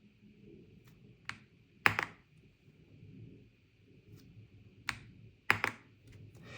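Scattered key presses on an Epomaker TH85 mechanical keyboard click sharply against a quiet room hum, with a few louder, heavier taps spaced seconds apart.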